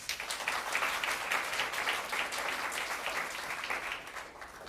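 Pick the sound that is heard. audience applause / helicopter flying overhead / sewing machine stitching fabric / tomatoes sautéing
audience applause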